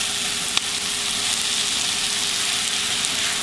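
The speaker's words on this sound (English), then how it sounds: "let these simmer just a few minutes and get soft" Sliced onions simmering in a crowded skillet for Salisbury steak gravy, giving a steady, even sizzle and hiss throughout with no pauses and no voices.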